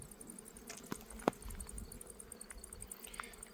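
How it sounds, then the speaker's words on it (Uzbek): Honey bees flying around their hives at an apiary during the July honey flow, a steady soft buzzing drone from many bees, with occasional closer passes and a faint click, no talking. "Mana arilar uchishi. Zo'r uchyapti arilar."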